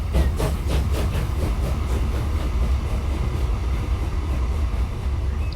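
A train runs along the line in the railway video game Transport Fever, a loud steady rumble with a rhythmic clickety-clack of wheels on rail joints and no voices over it.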